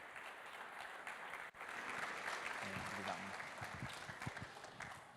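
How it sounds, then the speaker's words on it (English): Steady, moderately distant applause fills a room as an audience at a church special service welcomes a guest speaker onto the stage, continuous from start to finish. "Can everyone give him a welcome round of applause?"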